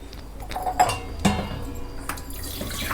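Fresh water runs into a vessel to wash sweet potatoes, a steady close pour with a few clinks and knocks from the pot.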